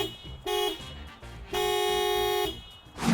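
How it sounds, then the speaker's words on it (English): A Toyota RAV4 car horn gives a short beep and then a longer sustained honk, both close and clear with a bright, steady tone. "the actual sound of the Rav4's horn is this."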